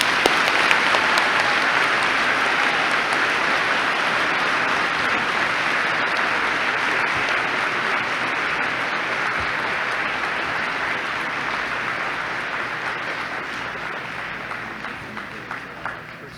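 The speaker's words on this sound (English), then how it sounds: "please join me in a final round of applause to thank our incredible speakers here today" A school audience of students claps in sustained, dense applause at a Bellarmine justice summit, thanking the speakers. The applause is loud and steady throughout and tapers slightly toward the end.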